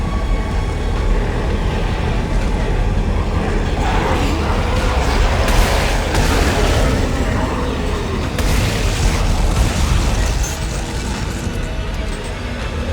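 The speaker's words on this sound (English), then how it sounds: "It's throwing giant chunks of rock at you!" In the Dead Space 3 video game a boss hurls giant chunks of rock, with heavy rumbling booms and crashing impacts forming a dense, loud roar throughout.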